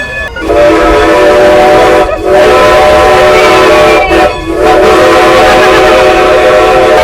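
A loud steam train whistle on the Strasburg Railroad in Pennsylvania blows in long sustained blasts with brief breaks, over the rumble of the passing train close by.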